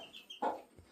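A few soft clucks from chickens close by, short and irregular, with a faint high chirp in the background.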